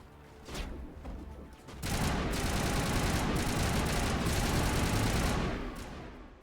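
A grenade blast in the video game Mass Effect, a loud sustained roar of explosive, gunfire-like noise that swells after a softer start and holds for several seconds before fading.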